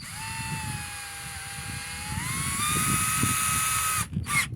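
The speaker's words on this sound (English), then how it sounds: "So for the drill right here, to do these holes on the wood," A power drill boring holes in wood whines steadily at high speed, its pitch rising slightly, before cutting out and briefly restarting in short bursts.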